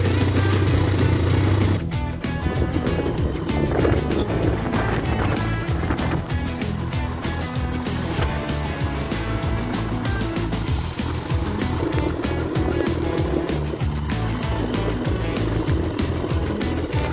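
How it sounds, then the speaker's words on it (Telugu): Boats near Morjim beach in Goa, heard as a steady engine drone with a broad wash of noise, like motorboats mixed with surf, continuous and fairly loud throughout. "అక్కడ కనిపిస్తున్నాయి కదా, అక్కడ బోట్స్ ఉన్నాయి."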